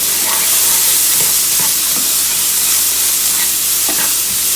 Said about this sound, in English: I'm going to go ahead and saute this for a minute